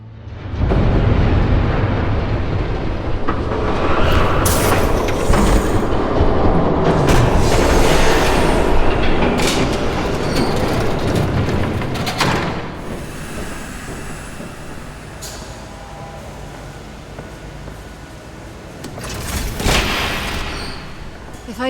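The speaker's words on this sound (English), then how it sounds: "There's a train coming." A train approaches in a game scene of Batman: The Telltale Series, a loud, sustained rumble with booming bursts that swells over the first half, eases off and then rises again near the end.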